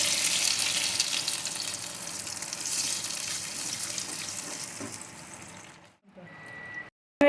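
Boiled, ground spice paste hits hot oil in a kadai for butter chicken, a loud hissing sizzle that slowly fades before cutting out near the end.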